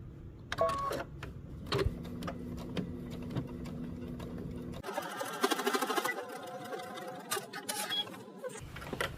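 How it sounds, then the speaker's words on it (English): A sewing machine stitching across the strap of a sundress, running in a steady mechanical whir, then a denser, rattling burst of stitching, close and fairly loud with no talking. "I'm gonna go ahead and stitch the area across the strap."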